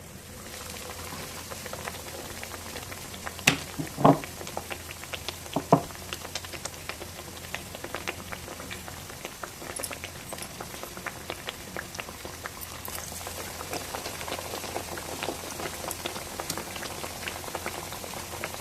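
Raw banana bajji frying in hot oil, a steady close bubbling sizzle with dense crackle and a few louder pops, continuing without talk.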